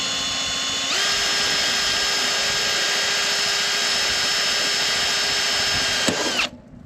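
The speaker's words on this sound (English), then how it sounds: "So we're just gonna probably drill that pop rivet out." A power drill whines steadily at high speed while drilling out a pop rivet on harvest farm machinery, close and loud, then winds down abruptly at the end.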